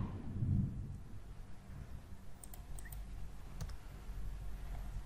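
Mouse clicks on a search button during product research software use: a few faint, sharp clicks in a quiet room over soft low background rumble, with no speech.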